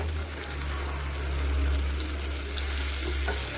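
Small fish and taro stolons fry on a flat tawa, a steady loud sizzle with a low hum beneath, continuous and close, as the pieces are slowly turned over.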